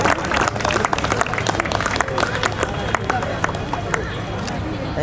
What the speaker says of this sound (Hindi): एक जोरदार ताली होना चाहिए इनकी टीम के लिए।